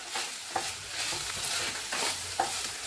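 Ivy gourd (kovakkai) pieces frying in a pan with freshly ground spice powder, stirred with a spatula: a constant loud sizzle broken by regular scraping strokes and a few sharp clicks against the pan.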